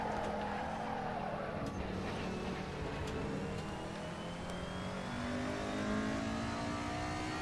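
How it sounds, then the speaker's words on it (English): 1992 Mercedes 190E DTM race car engine in the Assetto Corsa racing game at the Nordschleife, a continuous loud high-revving drone with rising and falling pitch through gear changes, alone and without talk. "Mercedes just goes vroom."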